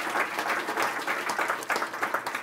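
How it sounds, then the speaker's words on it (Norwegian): Audience applause after a talk at a Norwegian climate breakfast event, a steady dense patter of many hands clapping at moderate volume with no voices over it. "Først applaus, og så et spørsmål eller to."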